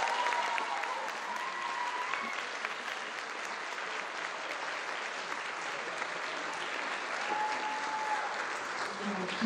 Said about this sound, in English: So we're going to give them all a big round of applause.